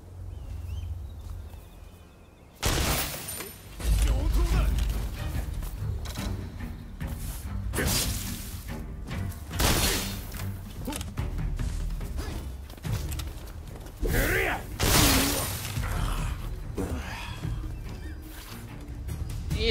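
Sharp gunshots and heavy impacts in the samurai action game Rise of the Ronin, a handful of loud isolated blasts spaced several seconds apart over ambient battle noise.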